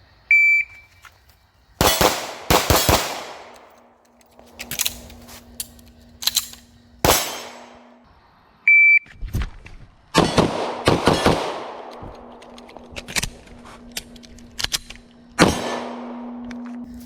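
Fast pistol shooting on a range: sharp, loud shots come in quick pairs and short strings separated by pauses, each with a ringing decay, while a beeping timer sounds at the start and a steady electronic tone hums between strings.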